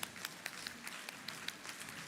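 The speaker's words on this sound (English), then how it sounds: "give a huge round of applause to our esteemed members of the management" Teachers applauding management at a school welcome function, faint and distant scattered clapping with a steady patter throughout, no talk.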